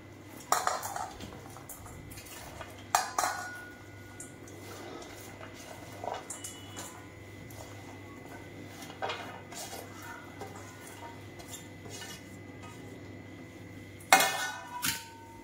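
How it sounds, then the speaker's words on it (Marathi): Chopped vegetables are mixed with a coating in a bowl, with intermittent clinks and knocks of a utensil against the dish spread across the stretch, some louder bursts among quieter scraping, close by and without talk. "हे सगळं मिक्स करून घेणार आहे"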